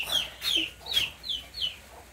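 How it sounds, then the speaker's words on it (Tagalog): Chickens being fed cluck in a series of short, bright calls, about five bursts at a steady pace, fairly close with faint background noise. "Nagpapakain siya ng manok."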